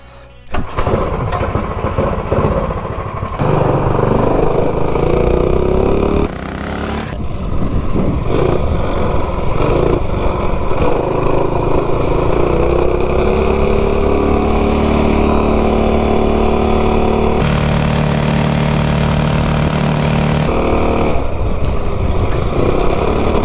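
A mini bike engine runs loud and close while the rider cruises around a neighborhood, with a continuous chattering drone that rises and falls in pitch as the throttle changes.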